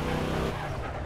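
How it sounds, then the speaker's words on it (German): In the online game APB Reloaded, a car runs over a player: a loud, close engine roar with a brief tire screech, lasting about a second. "Ja, mit dem Auto wurde ich gerade überfahren."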